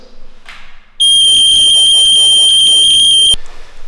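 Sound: smoke alarm sounding

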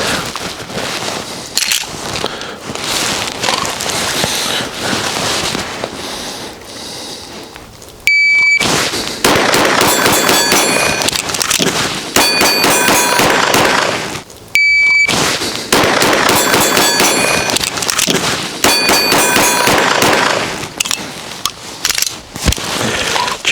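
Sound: pistol gunshots during reload drill

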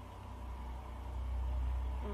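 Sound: truck passing by outside

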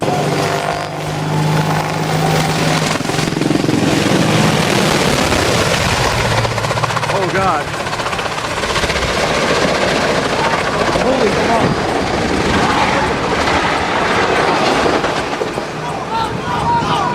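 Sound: helicopter flying

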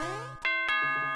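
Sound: doorbell ding-dong sound in Super Mario Maker video game

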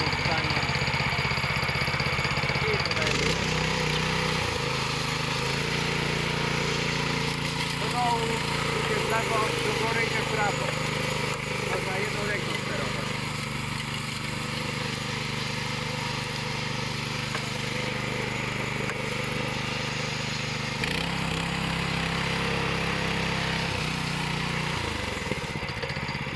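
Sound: petrol concrete power trowel engine starting and running

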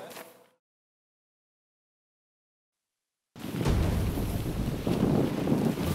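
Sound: wind blowing at outdoor campsite

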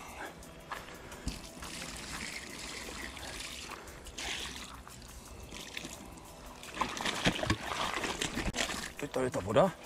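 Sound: water poured over a caught carp

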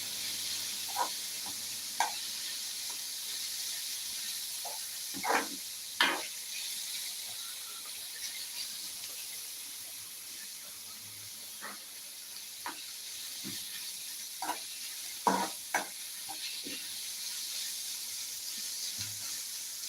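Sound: cabbage stir-fry being stirred and sizzling in a pan

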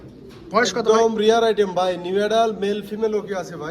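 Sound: pouter pigeons cooing in a loft

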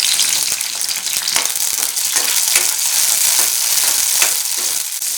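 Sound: green chillies frying in peanut oil

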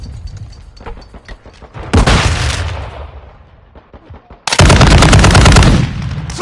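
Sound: grenade explosion and gunfire in a video game

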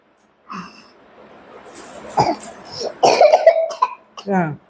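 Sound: coughing

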